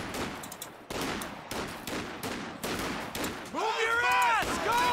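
Gunfire in a video game's squad battle, with repeated bursts of rifle shots at close range, followed by a bright warbling, whining effect near the end.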